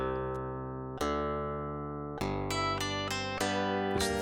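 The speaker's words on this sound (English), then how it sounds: "Now I'll put it in MIDI so that you can hear the combination of the three voices here" Synthetic MIDI tones play a Bach canon, BWV 1087, in three voices: sustained, organ-like notes stack and change in stepwise entries over a few seconds, clean and close with no voices.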